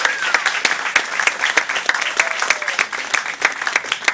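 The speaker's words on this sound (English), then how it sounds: "A round of applause for Jackie." An audience at a Florence Nightingale nursing award ceremony breaks into sustained applause, dense overlapping claps filling the room continuously for several seconds.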